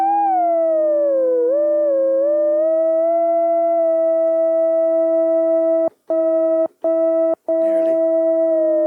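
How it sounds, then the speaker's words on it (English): A sine wave from VCO2 on an Arturia PolyBrute synthesizer is tuned with the cutoff, giving a sustained steady tone that glides slightly in pitch early on, then holds, broken by three brief dropouts near the end. "I'm going to tune our sine wave."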